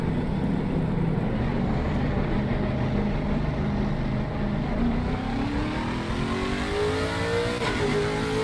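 A Lexus RC F GT3 race car on the Kyalami circuit in Assetto Corsa Competizione, its engine loud and close, droning steadily and then climbing in pitch as it revs up through the gears, with no talk.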